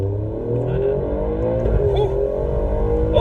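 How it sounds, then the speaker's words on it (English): Alfa Romeo Giulia Quadrifoglio accelerating hard from first into second gear with a little wheel spin, its engine droning loud and steady from inside the cabin, with a voice talking over it. "that was a little wheel spin there between first and second"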